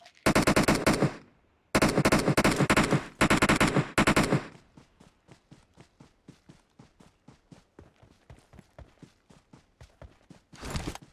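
Loud bursts of automatic gunfire in PUBG Mobile come in three rapid volleys, then a long run of quick footsteps, and a final short burst of shots near the end, with no talking.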